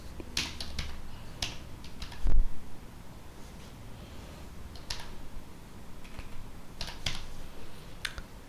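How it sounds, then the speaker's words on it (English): Keystrokes on a computer keyboard entering a Linux terminal command during an Arch Linux install, scattered clicks in short bursts and single taps, close and moderately loud, with no talking. "for that I'm gonna type generate file system table"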